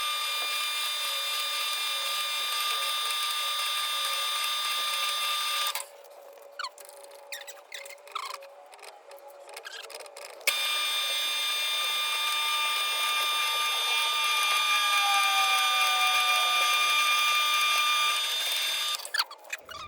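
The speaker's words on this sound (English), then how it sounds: "So now we're just gonna drill these out." A drill boring holes into an aluminum block for custom cable mounting clamps, giving a steady, close machine whine with a few seconds of stopping and starting in the middle before the drilling runs on continuously.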